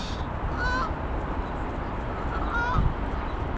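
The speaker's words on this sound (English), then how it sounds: "Oh, the geese." Two honking goose calls, one early and one near the end, sound from a distance over steady outdoor noise.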